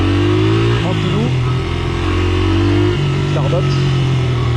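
A pit bike motorcycle engine revs and hums in the background, its pitch rising and falling with a couple of throttle blips, while someone talks nearby throughout.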